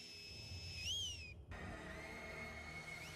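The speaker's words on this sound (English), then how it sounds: "there's a whistle meaning man down" A shrill whistled signal meaning man down in The Last of Us rings out, a steady high note rising and bending in pitch, then sounding again faintly over a low ambient rumble.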